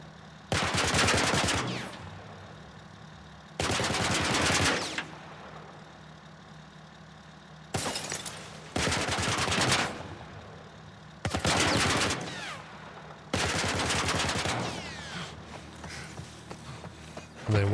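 Automatic turret in The Last of Us Part I firing three loud, sustained bursts of rounds, separated by quieter gaps of low rumbling ambience.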